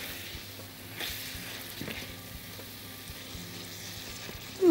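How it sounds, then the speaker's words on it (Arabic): Vegetables sauté in a pan for a pea and egg tagine, giving a soft, even sizzle with faint utensil taps now and then and a sudden louder scrape at the very end. "هعملهم بالطريقه دي واسيبهم يتشوحوا"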